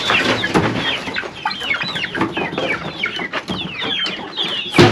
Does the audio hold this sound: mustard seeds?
no